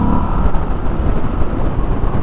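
A Moto Guzzi V7 Special motorcycle engine pulls away with a steady, close, throaty drone that stays loud and even throughout, with no talking.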